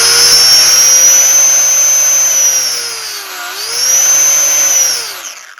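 Electric motor and propeller of a Volantex Fw 190 micro RC plane spooling under throttle, a loud close whine that holds steady, dips briefly, rises again, then winds down.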